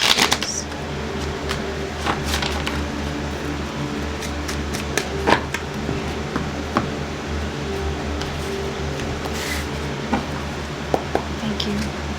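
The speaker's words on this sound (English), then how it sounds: "One more shuffle for Aries, please." Tarot cards being shuffled close by, a soft continuous riffling with scattered sharp little ticks and flicks over a low steady hum.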